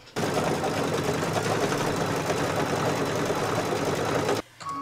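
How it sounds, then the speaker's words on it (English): An embroidery machine works a chenille stitch design in one long, loud, unbroken run of rapid needle pounding, stopping sharply just before the end, after which faint handling noise follows. "And it's going to stitch the chenille stitching."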